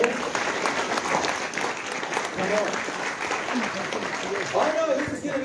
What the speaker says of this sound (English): if you start clapping like that, then you're already warmed up